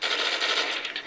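Rapid-fire weapon fire in Call of Duty: World at War, a fast continuous burst of shots lasting about a second, loud and close with no talk.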